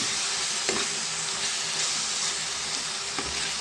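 Chili and coriander masala for a spicy fish curry sizzles in a pan under a constant frying hiss, with a few soft scraping strokes of stirring heard up close.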